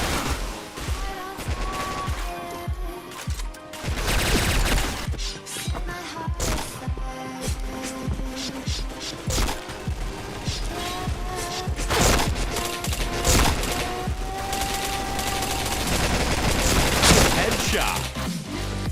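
Dense, continuous gunfire from the PointBlank video game, with rapid volleys, bursts and loud blasts packed throughout, some short game voice callouts mixed in.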